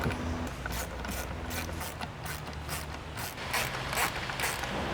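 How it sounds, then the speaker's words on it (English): A 10mm ratchet spanner tightening nut and bolt combos while fitting a front splitter kit on a 2021 Hyundai i30N hatch, clicking in a rapid even run of ratchet pawl ticks, close and loud with no talk. "take your 10mm ratchet spanner and your 4mm Allen key and tighten them up"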